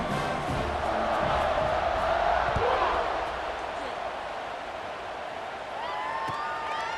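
A stadium crowd in the College Football 26 video game roars and cheers, swelling loudly before easing to a steady murmur, while a commentator talks over it.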